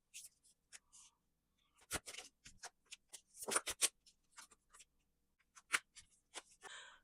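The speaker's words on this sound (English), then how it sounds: "I'm going to shuffle the cards" Soft, irregular papery flicks and riffles of tarot cards being shuffled close by, coming in short bursts with quiet gaps.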